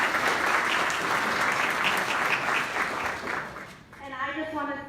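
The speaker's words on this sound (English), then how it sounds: "So everybody clap for them because they're the reason why we're here." An audience at an awards ceremony applauds in a dense, sustained burst of clapping that fades after about four seconds as a voice begins speaking over the thinning applause.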